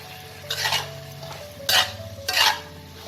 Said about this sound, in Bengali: এবার এতে আমি সয়া সসের মিক্সচারটা দিয়ে দেবো।